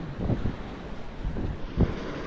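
Monsoon wind buffeting the microphone with waves surging at sea, a low rumbling roar with periodic swells of water, loud and close throughout.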